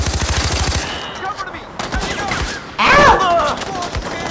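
Shotgun blasts in the video game Far Cry 4, a rapid burst of loud close shots followed by a few more heavy booms, with a voice speaking briefly in between.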